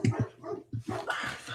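Several dogs bark and whimper up close, giving a few short barks followed by whiny yips and whimpers, with no speech.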